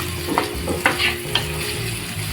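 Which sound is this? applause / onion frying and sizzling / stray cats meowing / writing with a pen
onion frying and sizzling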